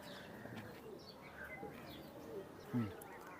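A teddy pigeon, an old flying breed, gives soft throaty coos with faint chirps in a quiet room, one short louder burst near the end, and a person talking lightly in the background.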